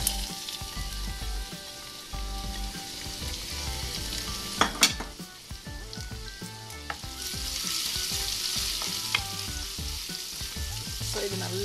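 Fennel, garlic and stone flower temper in hot oil for kadappa, a steady close sizzle and crackle with a few sharp pops and occasional stirring scrapes from the pan, and no voices.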